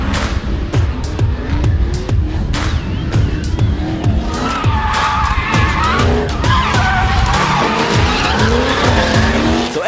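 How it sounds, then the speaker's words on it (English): Drift cars slide at a live motorsport show. Continuous loud tire squeal and skidding mixes with roaring engines, revving and shifting in pitch as the cars pass close. "So as you would imagine, Mike, in drifting, there's a lead car and a follow car"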